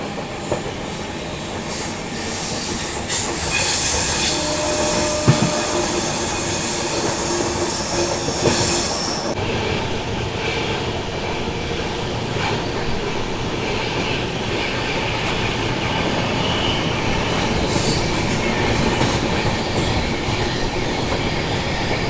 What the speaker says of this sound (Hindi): अपनी ट्रेन अभी एंटर कर चुकी है बुधनी घाट के सेक्शन में